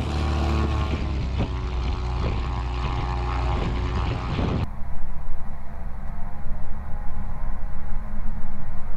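A small propeller airplane runs its engine on the apron during a pre-departure check, a steady loud drone that abruptly shifts about halfway through as the engine note drops and a rougher, lower rumble continues.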